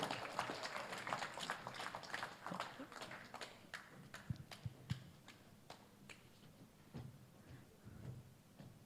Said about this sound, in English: welcome with a round of applause, guys